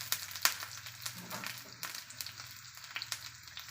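Garlic and shallots sizzle in hot oil in a pan for a mushroom roast, a soft, steady crackle with scattered sharper pops throughout.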